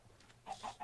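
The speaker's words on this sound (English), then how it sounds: "Look at all them chickens!" A flock of chickens clucks faintly at a distance, with a few quiet overlapping clucks in the second half.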